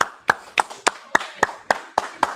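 A congregation at a church feast claps in slow unison, about nine sharp, evenly spaced claps in a steady rhythm, close and crisp with brief decays between them.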